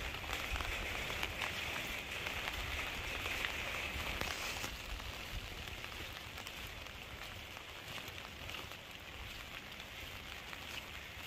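Steady light rain falls on a dirt road in rural Laos, heard as a continuous soft hiss with scattered droplet patter, fairly quiet and unbroken for the whole stretch.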